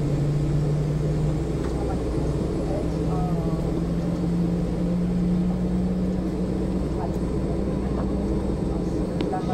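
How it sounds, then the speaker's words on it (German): Boeing 747-400 jet engines 4 and 3 spooling up during start at Frankfurt after pushback, a steady loud low turbine drone with a rising whine, constant throughout, with cockpit talk. "Engine 4 and 3 Start"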